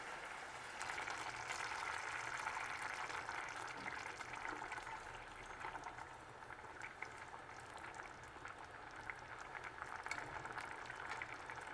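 Spring vegetable risotto with broth simmers in a pan, giving a soft, continuous bubbling hiss at low volume with no talk over it.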